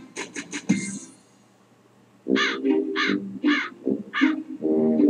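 A crow calling in a series of harsh caws, first a quick cluster of rough cries, then after a pause a longer run of loud, close, rhythmic caws.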